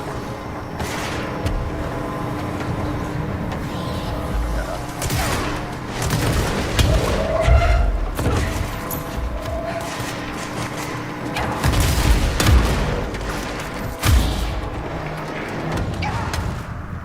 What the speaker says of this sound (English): Only shoot bazookas into the ground, guys.